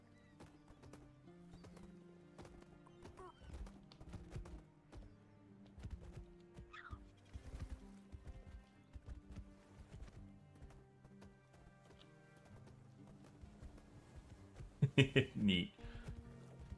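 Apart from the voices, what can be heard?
horse neighing and hooves clip-clopping in video game Tainted Grail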